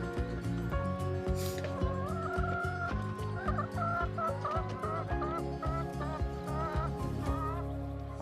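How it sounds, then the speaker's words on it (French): A busy flock of hens clucks and squawks continuously inside a mobile organic henhouse holding up to 250 birds, with overlapping calls close by and a steady low hum beneath. "C'est un poulailler mobile où en bio bourgeon, on peut mettre 250 poules."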